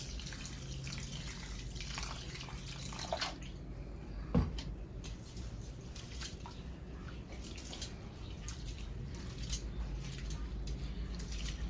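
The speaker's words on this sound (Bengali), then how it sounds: "পানি দিয়ে পরিষ্কার করে ধুয়ে নেবো" Mung dal is swished and rinsed with water in a large bowl, producing soft continuous sloshing and dripping with a single small knock partway through, fairly quiet and close.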